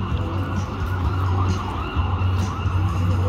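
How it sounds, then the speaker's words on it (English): Emergency sirens on a busy downtown street heard from an outdoor market, with a steady low traffic rumble beneath and a faint rising wail running through the whole moment. "you can hear lots of sirens because we're downtown"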